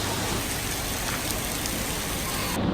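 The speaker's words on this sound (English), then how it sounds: "Oh, you know, just a regular downpour." Heavy rain pours down steadily, a dense continuous hiss of drops drumming on surfaces, loud and close throughout with no voices.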